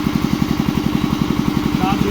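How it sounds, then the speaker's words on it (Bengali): A pipe joining machine runs with a steady, rapid mechanical chug at a site, loud and close, its even rhythmic pulsing continuing throughout with a faint brief higher tone near the end. "এই আমাদের হচ্ছে পাইপ জয়েন দেওয়া মেশিন"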